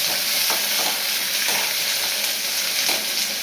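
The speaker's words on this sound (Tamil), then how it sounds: "தக்காளி வதங்கட்டும்." Chopped tomatoes sauté in a hot pan for a broad bean kootu, a dense continuous sizzle with a few soft spatula scrapes, close and fairly loud throughout.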